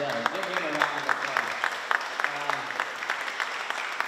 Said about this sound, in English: Give him a round of applause.